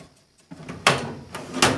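A drawer of a used marketplace mechanic's toolbox slides open or shut, a couple of quick metallic scrapes and clunks close by, with no talking over them.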